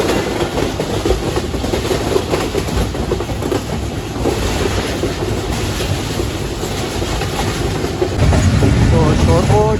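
Pakistan Express passenger train (46DN) running at speed through a railway station in Pakistan, with steady loud rattling wheels and clickety-clack of carriages throughout, growing heavier near the end.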